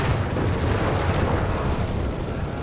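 A Mark II grenade explodes in the World War II strategy game Company of Heroes 3, a dense rumbling blast that blends into steady battlefield booms and noise for the whole stretch, with no talk.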